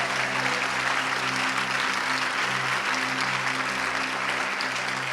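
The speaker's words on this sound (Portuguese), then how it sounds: "Dê uma salva de palmas bem forte a Jesus." A church congregation claps loudly and continuously for several seconds, a thick wash of applause with sustained low musical tones humming underneath.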